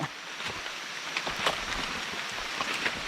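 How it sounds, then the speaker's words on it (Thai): Steady rain falls through a bamboo forest, a dense hiss of drops pattering on leaves and stems, with scattered louder droplet ticks, continuous and moderately close, no voices. "แต่ตอนนี้คือ ฝนตก"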